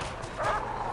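Dogs in the Prison Architect prison game set upon an escaping prisoner, a brief burst of barking and yelping heard near and fairly loud over a steady game background.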